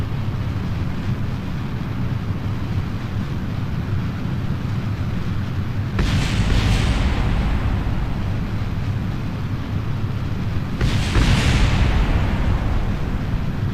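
Rocket explosions in Kerbal Space Program sound as two loud booming blasts about five seconds apart over a constant heavy engine roar.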